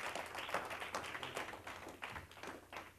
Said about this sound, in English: Give God one more hand clapping.